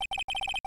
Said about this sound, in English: I heard a phone ring just now.